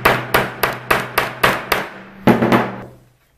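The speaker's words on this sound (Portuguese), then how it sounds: "Agora que tá bem preso, eu bato com o martelo." A hammer taps several times at a steady rhythm, then two closer blows, to fix a tied line while decorating a room. The sharp knocks are close and loud, with no voices, and stop abruptly.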